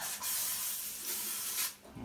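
A spray bottle of cleaner spritzes onto cellophane during a spin scrubber cleaning demonstration, giving close, airy bursts of hiss, with a stronger burst near the start and another near the end.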